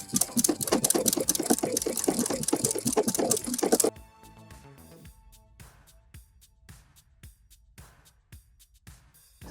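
A sewing machine with a Schmetz double eye needle runs a decorative flower stitch, a loud rapid mechanical chatter for about four seconds that stops abruptly, followed by quiet scattered clicks and taps.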